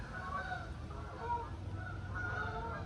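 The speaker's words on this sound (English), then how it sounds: "Hear the geese?" Geese honking repeatedly at a distance, faint calls drifting over a low background hum.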